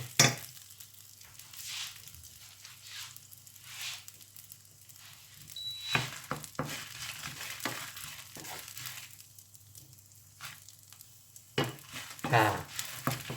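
Chilies fry in oil in a home kitchen for tom yum, a soft sizzle with intermittent stirring scrapes and clinks, fairly quiet and close.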